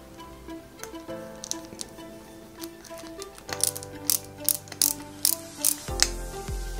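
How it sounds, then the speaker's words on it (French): Small screw being driven into the underside of a 1/8 scale Citroen C4 WRC 2008 model car, close ratcheting clicks of a screwdriver in quick repeated bursts with sharp taps near the end. "Et on visse en dessous avec une vis AP."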